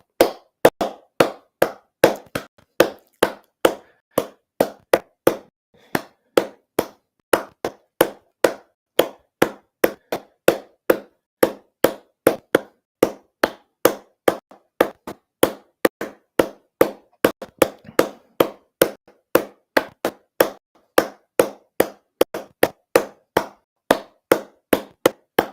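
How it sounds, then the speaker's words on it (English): Palms slapping the soles of the feet in a qi therapy exercise, a long steady series of crisp, evenly spaced claps, close and clear, with no talking. "clapping the center, matching the center of your palm with the center of your feet"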